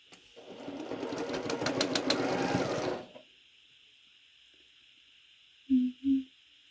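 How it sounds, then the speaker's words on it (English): A home sewing machine runs steadily for about three seconds, close and fairly loud, stitching quilt pieces together, then stops; two soft thumps follow near the end. "So I'm going to sew these together just like this."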